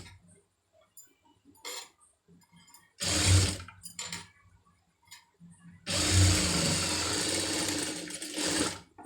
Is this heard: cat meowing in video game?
no